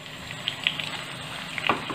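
Onions sizzle in oil in a pan as tomatoes go in for a green capsicum curry. The quiet, steady frying hiss is broken by a few sharp crackles and pops, with no talking.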